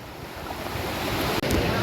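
The Rankala waterfall in a Konkan forest roars as a constant, dense broadband rush close by, with no talking over it.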